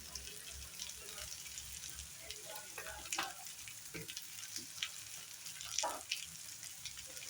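Onions with cumin powder and spice masala sizzle in hot oil for a kabuli chana fry, a steady bright frying hiss with occasional stirring scrapes and clinks, close and continuous.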